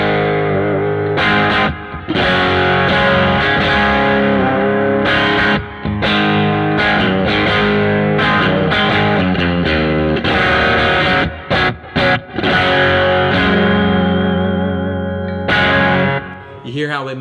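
Electric guitar on the bridge pickup through a Line 6 Helix AC100 amp model (SX-A30), EQ'd fat with treble cut and bass boosted: loud, continuous distorted chords and riffs with brief gaps, played alone.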